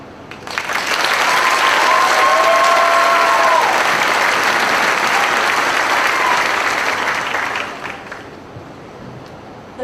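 Sustained loud applause from a high school graduation audience in a hall, a dense wash of clapping that swells quickly, holds for several seconds, then tapers off with a few scattered claps.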